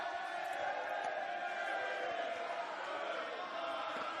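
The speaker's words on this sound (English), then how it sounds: "The crowd is getting very involved now too." Distant stadium crowd at a men's gridiron final between Northern All Stars and Gridiron Queensland, a steady roar of voices and cheering that holds at an even level for the whole stretch with no break.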